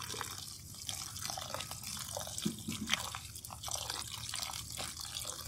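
Cold tap water running steadily over freshly boiled tapioca pearls in a sink, a continuous close splashing and trickling with scattered drips, no talking.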